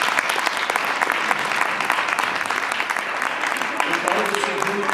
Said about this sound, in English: Let's hear a round of applause for our candidates.